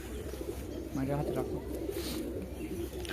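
Giribaj pigeon of a western line, a male, cooing once in a short soft warble, faint against a noisy background murmur.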